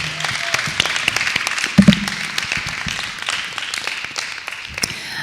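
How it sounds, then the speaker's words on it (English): Audience at a D49 student board of representatives school board candidate forum applauds the board candidates, dense steady clapping lasting the whole stretch at moderate loudness. "Can we get a round of applause for your D49 candidates,"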